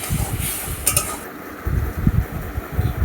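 Metal utensil scraping and stirring through a pan of prawn gravy as garam masala is mixed in, with clinks and scrapes in uneven bursts and a brief bright clatter, close and fairly loud with no talk.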